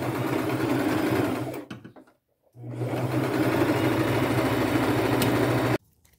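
A sewing machine runs loud and steady stitching the side seam of a fitted T-shirt dress, pausing for about half a second before resuming, then stopping abruptly.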